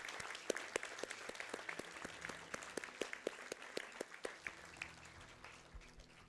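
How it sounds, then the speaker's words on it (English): Graduation convocation audience at NSBM applauding for the graduates' parents, a fairly quiet, sparse round of clapping with distinct separate hand claps in an uneven rhythm, fading near the end. "let's give a big round of applause to our beloved parents"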